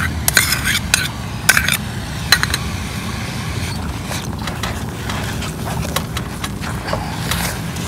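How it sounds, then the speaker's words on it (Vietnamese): Mung bean paste filling being stir-fried in a pan for mooncake-style bánh in, with repeated scraping and clinking of a utensil against the pan over a steady low rumble, a few sharper knocks standing out, no voices. "mình xào nhân á cho cái nhân mình được dẻo và nhân mình được mau khô nữa"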